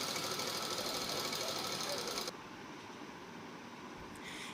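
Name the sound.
sewing machine stitching lining onto a baby suit sleeve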